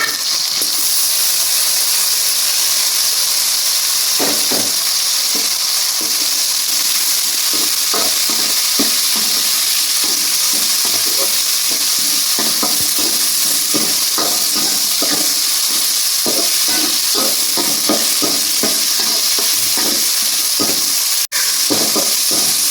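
Chicken varuval fries loudly in a pan with tomato, a dense continuous sizzle overlaid by repeated scraping strokes of stirring, steady throughout with one sharp knock near the end.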